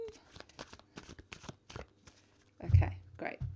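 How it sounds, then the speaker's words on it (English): A deck of tarot cards is shuffled by hand in a series of soft riffles and slaps, with one louder rustling burst near the end, while someone talks over it. "I just have to keep shuffling until I get told to stop."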